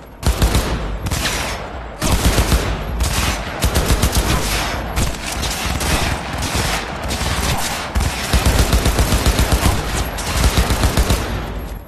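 Sustained gunfire in the game Cyberpunk 2077: dense, loud bursts of rapid shots, nearly continuous with brief gaps, close and dominant throughout.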